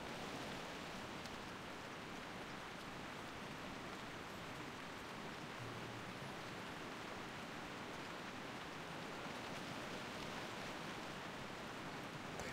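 Steady, even rain hisses continuously in the World of Warcraft Classic game world, a dense unbroken wash of droplets with no voices over it.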